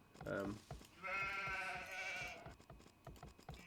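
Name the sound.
sheep bleating in Age of Empires II video game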